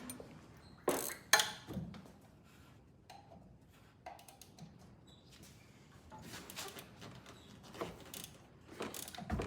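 A ratchet wrench clicks as it turns a tight metric motor mount bolt on an 1988 Ford Ranger, quiet close ratcheting and tool clanks in a fairly hushed space.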